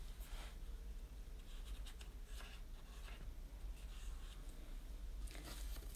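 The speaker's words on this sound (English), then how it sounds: "So I'm just drawing around." Pencil tracing around cut paper shapes on a sheet, a soft continuous scratchy drawing sound with brief pauses, faint and close, alone without talk.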